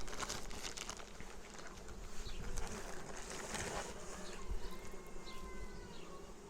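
A dense, steady hum of honey bees fills an open beehive colony of about ten frames, close and continuous, with occasional individual bees zipping past.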